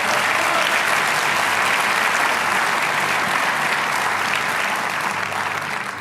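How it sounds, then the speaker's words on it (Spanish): A church congregation bursts into sustained applause, dense and steady from start to finish, a broad wash of many hands clapping that fades only slightly at the end. "Denles aplauso al Señor."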